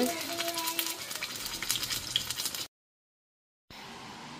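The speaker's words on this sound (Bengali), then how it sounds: "এখন আমি এটা আস্তে আস্তে ফ্রাই করে নেব।" A Bangladeshi mughlai paratha frying in a pan gives a dense crackling sizzle for about two and a half seconds, then a full second of silence before the sizzle resumes more softly.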